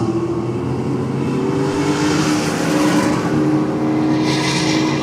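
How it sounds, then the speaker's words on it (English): A Holden VT Commodore drag car launches hard off the trans brake, its engine a loud, sustained roar that rises in pitch and holds strong for several seconds, with no talk. "See how this VT launches out this time."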